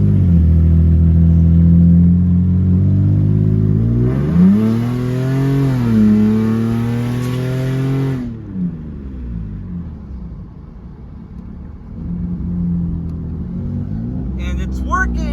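A Lexus IS300 car engine revs up loudly and then settles into a steady rumble while driving, with some fainter noise toward the end.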